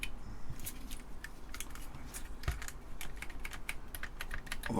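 Typing on the reassembled keyboard of a TeleVideo TVI-912C terminal, a steady stream of sharp, close keystrokes with uneven rhythm and no talk.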